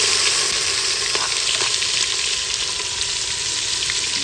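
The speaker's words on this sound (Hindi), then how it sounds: "अब इसमें मिसाले ऐड हो रहे हैं।" Spices hit hot ghee in a pot, giving a steady, loud, close sizzle of frying with a few faint clicks and no voices.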